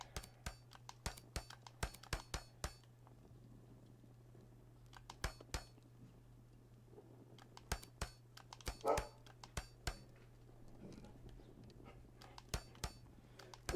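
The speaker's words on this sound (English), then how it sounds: "What are you barking at?" A dog barks faintly and intermittently indoors, the sounds mixed with frequent sharp clicking taps over a steady low hum.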